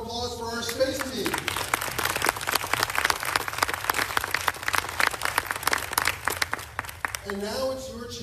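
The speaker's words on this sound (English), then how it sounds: "Big round of applause for our space team." A conference audience applauds the space team at the Canadian Space Strategy launch, a dense, steady burst of clapping lasting several seconds, with a presenter's voice at the start and end.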